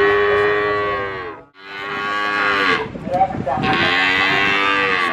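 Cattle such as Limousin, Simmental and Javanese breeds at the Nglangon animal market in Sragen, Central Java, give two long, loud, close moos, the second rougher and wavering.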